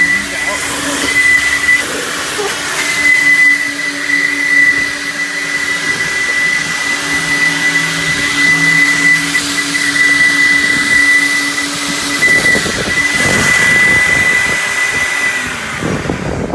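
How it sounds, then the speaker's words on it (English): Steady whine of a JE Adams Turbo Vac coin-op vacuum at an Ocean Shores car wash, with a thin high whistling tone held throughout under continuous motor roar and occasional suction bursts as it sucks sand from shoes and the car. "I'm gonna go ahead and vacuum it."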